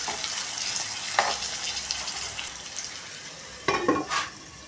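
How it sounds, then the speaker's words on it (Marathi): Bitter gourd sabzi frying on a low flame gives a steady soft sizzle, broken by a few quick scrapes as it is stirred in the pan, close and fairly quiet with no voices. "झाकून जरी ठेवलं तरी मध्ये मध्ये हे परतत राहायचं आहे"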